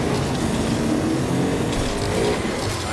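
Loud, steady engine drone of a high-horsepower car in the video game Agents of Mayhem, a continuous rumble with slight rises in pitch as it revs, filling the whole moment without pauses.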